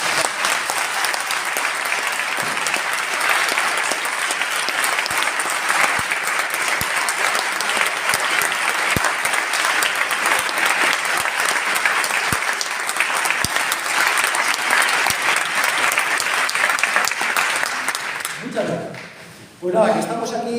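An audience in a talk venue gives sustained, dense applause for nearly twenty seconds, loud and even throughout, before it fades out abruptly at the end.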